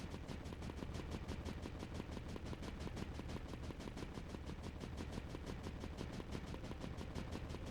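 Rapid, evenly spaced cannon shots in the video game Creeper World 4 fire in a continuous stream, a steady mechanical burst that never lets up, fairly quiet overall.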